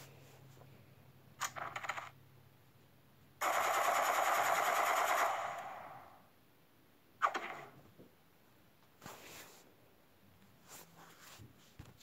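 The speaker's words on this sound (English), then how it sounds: "Here's what the rifle does, though." A rifle fires in a video game, a loud sustained burst of rapid shots lasting a couple of seconds, followed by scattered quieter clicks and game effects.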